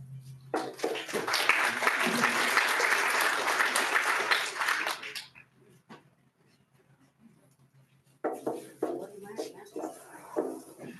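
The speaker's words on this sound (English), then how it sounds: "let's hold the applause as well, just because that takes up time for them" Audience applause at a mayoral candidate forum, a dense burst of clapping lasting about five seconds before fading to near silence, then scattered sounds and voices return.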